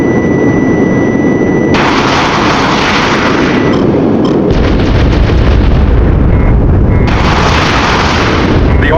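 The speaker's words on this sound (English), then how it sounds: "The Army base is destroyed" An army base is destroyed in the combat flight game Jane's Advanced Strike Fighters, with loud, continuous blasting and rumbling explosions layered over a roaring jet engine, dense and sustained throughout with no talk.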